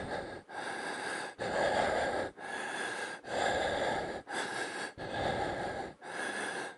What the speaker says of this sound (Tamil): பார்த்தா ஆஞ்சாய் மூச்சு விடுற போல சவுண்ட் வரும்.